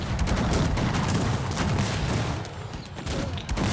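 Volleys of musket fire from massed infantry in a Cossacks 3 battle crackle in dense, overlapping bursts that keep going, loud and close, with brief lulls.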